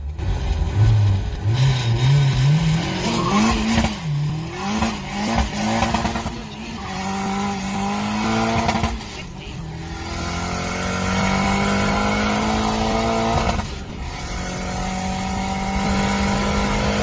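A drift-built Nissan 180SX revs hard and accelerates down a drag strip, its engine climbing through gears with sharp shifts, loud and close, with a brief tire chirp and no talking.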